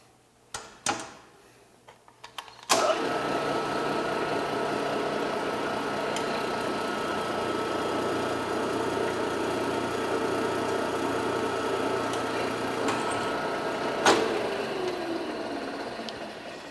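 A drill press runs steadily as it bores a hole with cutting fluid, a continuous mid-pitched motor hum with sharp clicks near the start and a knock near the end, heard alone and close.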